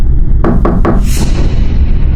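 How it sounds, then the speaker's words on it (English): Three quick knocks land on a bedroom window in close succession over a low, constant background rumble, followed by a fading airy swell. "there was a set of knocks on my window."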